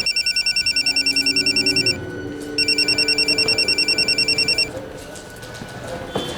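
A telephone ringback tone purrs in two long bursts of rapid pulses separated by a short gap, with faint background noise and a brief click at the end.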